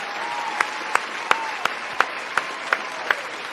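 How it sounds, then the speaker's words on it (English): Sharp, evenly spaced handclaps, roughly eight of them, ring out one by one over a steady background hiss as a streamer cheers a live audience during Super Bowl week. "Give me a round of applause real quick if you're out there watching live right now."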